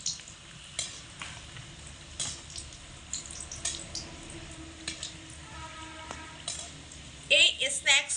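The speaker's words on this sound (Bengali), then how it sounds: "এইভাবে অটোমেটিক এভাবে উল্টে পাল্টে দিয়ে কিন্তু ভেজে নিতে হবে" Flattened rice (chira) and vegetable snacks fry in a hot pan while being flipped, giving a steady crackling sizzle with scattered scraping clinks and a louder spattering burst near the end.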